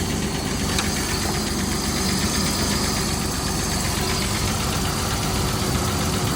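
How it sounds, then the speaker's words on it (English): An older Ford Bronco engine idles roughly with an audible knock, a steady, loud mechanical rumble with rhythmic tapping throughout and no talking. "Engine knock there."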